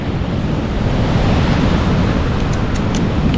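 Surf and wind on a beach at a Casiguran, Aurora Province campsite: a loud, close, continuous roar of waves with wind buffeting the microphone, and no voices.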